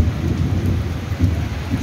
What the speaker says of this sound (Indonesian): Suara gemuruh petir, geluduk